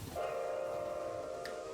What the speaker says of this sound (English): Let's watch the trains from up here while I have a chat.